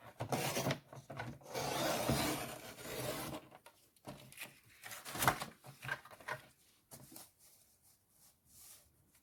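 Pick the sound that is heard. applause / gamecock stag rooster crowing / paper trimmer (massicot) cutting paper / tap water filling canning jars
paper trimmer (massicot) cutting paper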